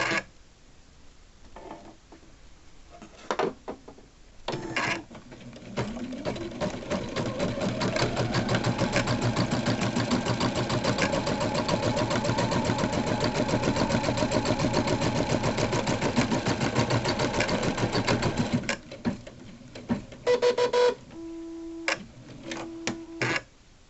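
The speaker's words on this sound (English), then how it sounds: "the next stitch will be the tack down stitch." A home embroidery machine stitching an applique tack down stitch, a steady rapid mechanical whir and ticking that runs for roughly fifteen seconds, with quieter starts, stops and clicks before and after.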